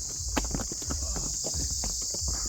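Pony hooves clip-clop at a steady walking pace, close by, in Kufri near Shimla, over a constant high insect-like buzz.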